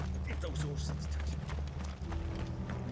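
Horses in Final Fantasy 16 clip-clop at speed, a steady close drumming of hooves under a voice talking.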